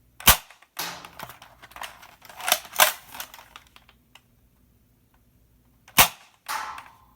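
A twin-spring modded Nerf Alphahawk blaster fires foam darts: two sharp, close snapping shots with a brief mechanical rattle between, then a pause and another crisp shot followed by a softer click, with no talking.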